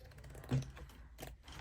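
Scissors cut plastic canvas mesh for an Easter wreath craft, giving two quiet, crisp snips about half a second apart in an otherwise hushed room.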